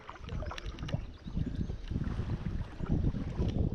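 Steady wind buffets the microphone on a kayak out on the Rum River, a continuous low rumbling roar with gusty swells and faint water sounds, with no voices.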